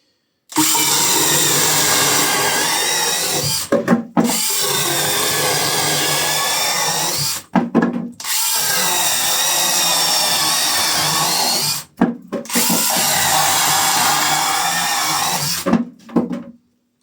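A Dnipro-m DMS-201BC cordless mini chainsaw runs close and loud, whining through wood in four long sawing bursts of about four seconds each, separated by brief pauses as the chain spins down and restarts.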